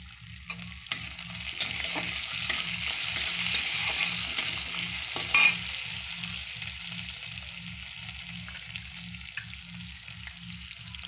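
Chopped chillies frying in a pan for masala dosa give a steady hiss of sizzling oil with occasional crackles, constant throughout over a low rhythmic hum.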